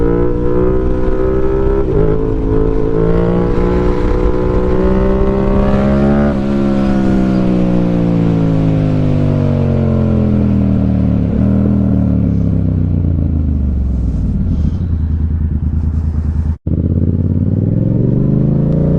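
A motorcycle cruises along the road, its engine loud and close, rising and falling through gear changes and steady throttle for the whole stretch, with wind rushing past and no talking.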